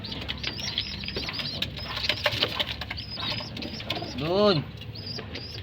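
Domestic pigeons take off and flap their wings in short bursts, with soft coos and chirps around them. Someone speaks in Filipino over the birds at close range.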